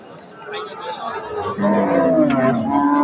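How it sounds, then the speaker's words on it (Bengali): A young cow lowing in a rural farm setting in hot weather, a long low moo rising over a background of people chattering nearby. "এই যে এটা কাঁচা বয়সের গরু।"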